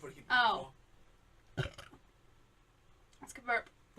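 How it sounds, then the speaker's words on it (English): A woman lets out a loud, drawn-out burp at the start, followed by two shorter, rougher throaty bursts separated by quiet pauses, close to the microphone. "That's a good burp."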